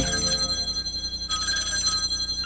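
A telephone rings with a bright, steady electronic trill in two bursts, loud and close, with no voices.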